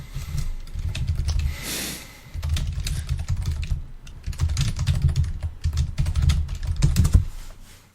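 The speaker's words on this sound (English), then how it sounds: "I like how loudly that typing just like it's getting really intense." Loud, fast computer keyboard typing in a video game, a dense clattering stream of keystrokes running nearly nonstop, with a brief pause around the middle, up close and alone without talk.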